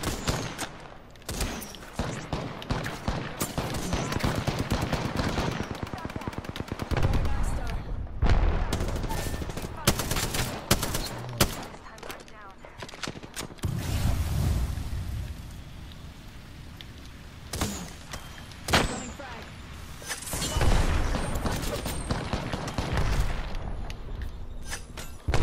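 Video-game firefight: bursts of rapid automatic fire and heavier blasts come in waves over about twenty-five seconds, loud and close, broken by short lulls and a hissing, rain-like wash between volleys.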